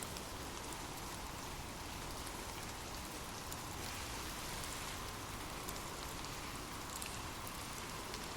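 Steady rain falls in a soft, even hiss with dense patter of drops on surfaces, continuous and moderately quiet throughout with no voices.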